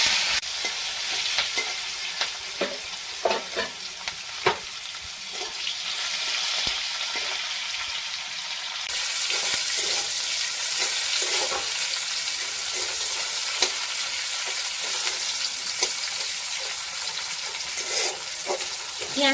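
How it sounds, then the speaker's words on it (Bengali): Onion and bay leaves go into hot oil alongside dried red chilli and are stirred, producing a loud continuous sizzle broken by repeated scraping and clinking strokes of a utensil against the pan. "আর দিয়ে দিচ্ছি দুটো তেজপাতা। দিয়ে দিচ্ছি একটা বড় সাইজের পেঁয়াজ।"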